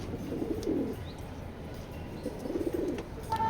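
Racing pigeons of a foreign bloodline give two soft, low coos a couple of seconds apart at a loft, faint against steady background noise with no voices.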